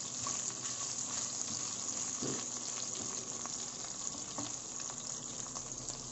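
Meat sizzles steadily in a hot pan while browning for chop suey, a continuous dense crackle with scattered pops running the whole time, close and fairly loud, with no talking.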